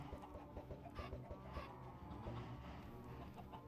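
Chickens clucking in the Minecraft video game, a run of short repeated clucks with game music or ambience underneath, moderately loud and without talk.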